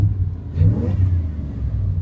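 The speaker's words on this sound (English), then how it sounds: "As you can hear, this has a pretty powerful engine." A 1990 Chevrolet GMC Custom pickup truck with a 5.7 litre V8 revs up close by, its deep engine rumble swelling and settling steadily over about two seconds with no talking.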